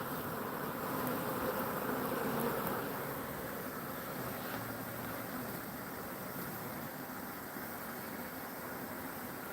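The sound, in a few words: swarm of bees buzzing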